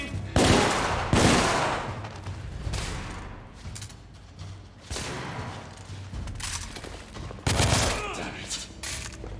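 Gunfire from the PS4 video game The Order: a loud series of shots and bursts, close and heavy, with pauses between volleys and a voice talking over parts of it.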